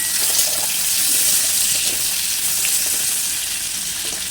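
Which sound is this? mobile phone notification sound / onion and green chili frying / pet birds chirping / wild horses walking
onion and green chili frying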